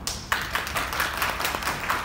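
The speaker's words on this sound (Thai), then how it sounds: "ขอเสียงปรบมือต้อนรับท่านอาจารย์ด" Applause from a seminar audience welcoming an invited lecturer at a highway design project meeting, a burst of scattered hand claps starting abruptly and continuing steadily for about two seconds in a room.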